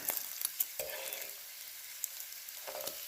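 Butcher Box bacon strips fry in a pan and get flipped. A steady close sizzle is broken by a few sharp scraping clicks, and no one talks.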